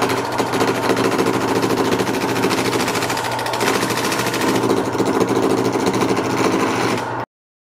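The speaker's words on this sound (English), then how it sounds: "Now let's get to turning down these big chunks of plywood on the lathe." Baltic birch plywood blank, a big chunk, being turned down on a wood lathe, giving a loud continuous rough machine roar with rattling chatter throughout, steady and close, cutting off abruptly near the end.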